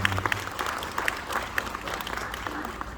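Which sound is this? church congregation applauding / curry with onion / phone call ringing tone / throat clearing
church congregation applauding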